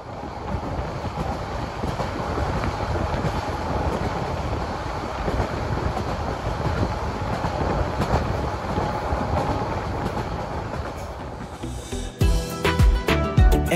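The nonstop Sonar Bangla Express rumbles along on its run from Dhaka toward Chittagong in a loud, steady roar, with a rhythmic clatter breaking through near the end.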